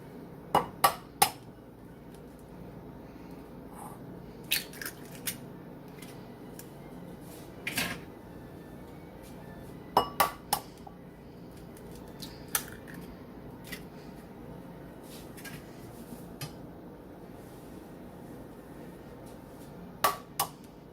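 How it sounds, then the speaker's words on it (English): Sharp, sparse clicks and taps of three large eggs being cracked against a dish for a lemon Jello poke cake, each crack a short isolated knock in a quiet kitchen, about a dozen scattered over the span. "Let's break up 3 eggs"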